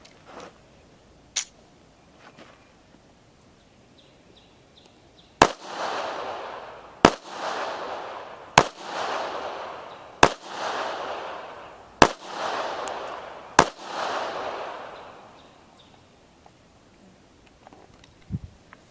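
Six evenly spaced gunshots from a pistol firing steel-cased Silver Bear .380 ammunition, sharp cracks each followed by a rolling outdoor echo, with a couple of fainter distant shots before and after.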